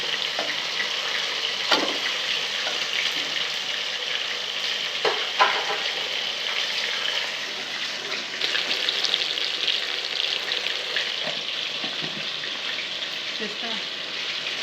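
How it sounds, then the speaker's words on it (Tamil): Chicken sautés in a pan, a continuous sizzle running throughout with occasional scraping knocks of stirring, close and steady. "இப்போ இது கூட வந்து சிக்கன் ஆட் பண்ணி அதையும் கொஞ்சம் நல்லா நம்ம வதக்கணும்"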